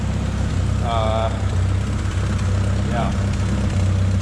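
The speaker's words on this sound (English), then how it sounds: "fix this noisy exhaust leak" Turbocharged Honda D16 engine idling with a noisy exhaust leak, a close, loud, steady low rumble with a rhythmic ticking puff, while a person briefly speaks over it.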